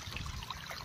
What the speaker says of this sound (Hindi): देख सकते हो छोटा वाटरफॉल, एकदम छोटा वाटरफॉल है।